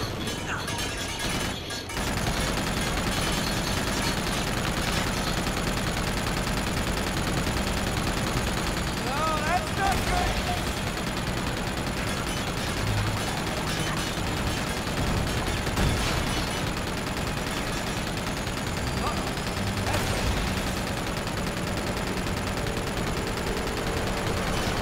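A dense, continuous battle of gunfire in Uncharted: The Nathan Drake Collection during a fight against a tank, with overlapping shots and blasts filling the whole span at a steady, loud level.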